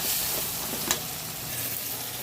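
Large-cut onions and tomatoes sauté in a pan for a spicy tomato chutney, giving a steady, close hiss of frying with a brief stirring scrape partway through.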